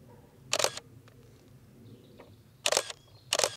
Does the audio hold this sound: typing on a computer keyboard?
no